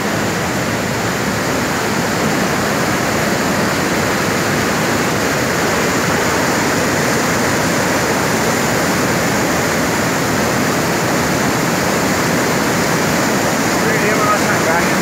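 Swollen stream water rushes after a flash flood on the Ribeirão Grande, a loud, unbroken roar of churning flow that holds steady throughout.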